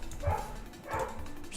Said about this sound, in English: Sorry for the dog bark.